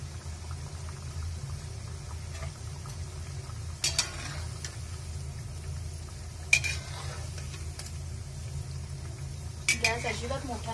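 Shankarpali dough pieces deep-frying in oil over a low flame, a soft continuous bubbling sizzle underneath, with a few sharp clinks of a utensil against the pan and stirring swishes.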